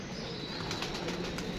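Several pigeons coming in to land, with a quick run of soft wing flaps and flutters heard faintly over a quiet outdoor background.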